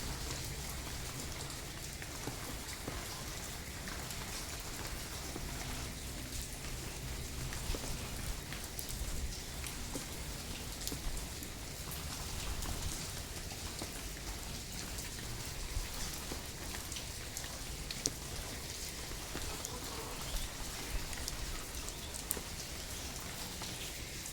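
Rain falls steadily behind a house, a continuous even hiss of drops on surfaces with no break, soft and constant throughout.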